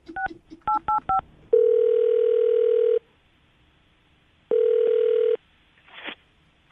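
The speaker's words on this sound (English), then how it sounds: "I'm going to dial the phone number right now" Telephone keypad tones beep in a quick run of short dialing blips, followed by two long steady ringback tones separated by a pause, heard clearly and alone on a radio show call.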